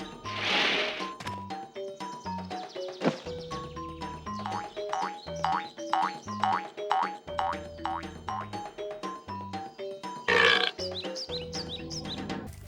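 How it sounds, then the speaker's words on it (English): A dragon burps in a Spyro Reignited cutscene, a loud, booming belch over busy, bouncy game music with springy boing effects, followed by a second burst near the end. "the reward was just this cutscene of a dragon burping"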